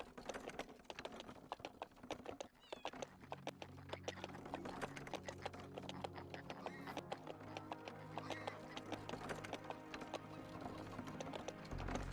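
Horse hooves clip-clopping in the farming video game Farming Simulator 25, a steady run of hoof clops mixed with game sounds and a low background tone, fairly quiet throughout.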